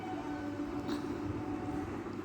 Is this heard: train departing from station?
yes